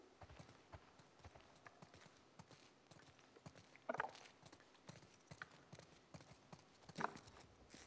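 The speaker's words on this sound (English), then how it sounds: "Let's get back to the horses." Horses walk in The Last of Us Part II, hooves giving a steady, soft clip-clop rhythm throughout, with a couple of louder snorts or clinks, heard faintly at a moderate distance.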